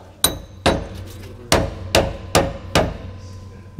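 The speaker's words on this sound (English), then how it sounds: "May have to just kind of hammer that in a little." Six sharp metallic hammer strikes on a trailer leaf spring part at an uneven pace, close and loud, each ringing briefly before the next blow.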